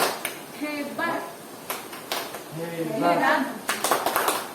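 A group of women in a training session clap a short rhythmic pattern in unison, several quick bursts of claps alternating with spoken and chanted words from the group.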